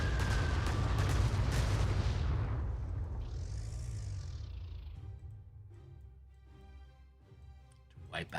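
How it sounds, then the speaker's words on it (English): Heavy bomber attack in the World War II strategy game Panzer Corps II: a loud, rumbling explosive roar that gradually fades, followed by quieter game sounds and a short clatter at the end. "I will use my red heavy bomber."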